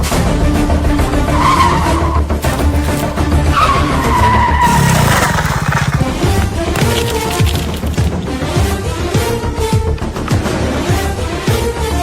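A motorcycle with failed brakes skids, giving short screeching tire squeals partly buried under loud, busy background music.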